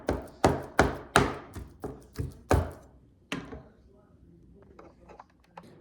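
Raw shrimp for siomai being chopped and mashed on a board with a knife, giving a run of about eight sharp, evenly spaced thwacks, then a louder hit and softer scattered taps, with a voice talking throughout.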